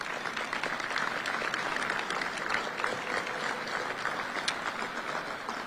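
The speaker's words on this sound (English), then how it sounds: "Let's give them a round of applause." An awards-ceremony audience claps for recognized students, a soft, even patter of applause heard from a distance across the hall, with a few sharper claps poking through.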